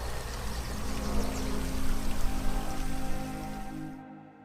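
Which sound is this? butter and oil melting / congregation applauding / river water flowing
river water flowing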